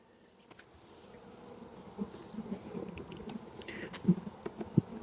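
Honey bees buzzing around an open hive that grew from a split made the previous year, a steady close drone that swells slightly louder over several seconds with a few soft knocks and taps in the background.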